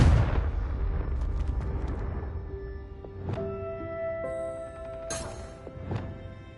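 Confringo fire spell from Hogwarts Legacy, cast repeatedly: a loud burst at the start, then further sharp blasts and pops at intervals over a rumbling magical backdrop with ringing tonal effects.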